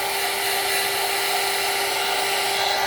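Hair dryer blowing steadily on acrylic paint laid on a gelli plate during printmaking, a constant close whooshing drone with a fixed motor whine and no break, alone without talk.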